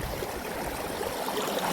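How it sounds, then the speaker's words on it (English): Creek water rushes loud and steady through a gold-prospecting canyon in Shasta County, a continuous broadband wash with no voices. "The water is rushing."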